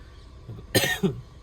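A person with a cold coughs indoors, two quick, harsh bursts close to the listener, with quiet room sound before and after.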